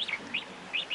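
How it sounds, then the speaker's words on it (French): A gosling, a baby goose hatched in an incubator, peeps in short high chirps, several quick calls close by in a quiet pen with no talking. "C'est un oison, un bébé oie."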